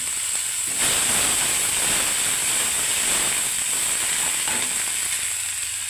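Onion paste and ginger with a bay leaf hitting hot oil for a Bengali raw-banana kofta curry: a loud, dense, continuous sizzle and steamy hiss that swells and holds steady up close.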